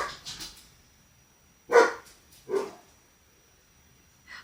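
A pet dog barks indoors: a few soft yips, then two louder, sharper barks spaced apart, with quiet pauses between them and a faint final yelp.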